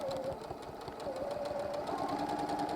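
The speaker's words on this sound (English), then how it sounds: "I'm just lining up 2 of the selvages on the end, and I'm just going to sew down anywhere" A sewing machine runs steadily, stitching straight across two lined-up selvages of white fabric for a quilted hummingbird panel, its motor hum and rapid needle rhythm continuous and close.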